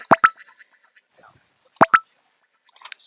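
A playful click sound effect added during video editing: two quick double pops, a pair at the start and another about two seconds later, crisp and close with no talking.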